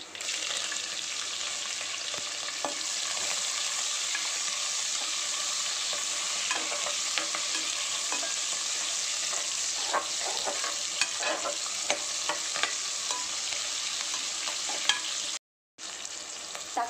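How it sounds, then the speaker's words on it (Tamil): Crushed garlic, onion, green chilies and curry leaves stir-frying in a pan for a Tamil moong dal kulambu, a steady close sizzle with scattered crackles and spatula scrapes, briefly cutting out near the end. "இடித்து வச்சிருக்க பூண்டு வெங்காயம் பச்சை மிளகாய் கருவேப்பிலை"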